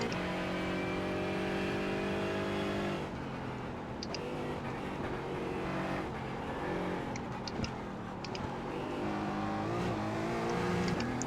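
Race car engine in iRacing during a championship race at Las Vegas, a steady loud droning whine that dips as the car lifts through a tight corner, then climbs again as it accelerates away.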